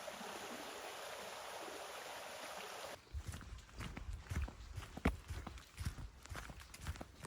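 Footsteps crunch along a hiking trail near a waterfall, following an opening stretch of steady rushing stream water; the irregular steps come close and moderately loud, with no speech.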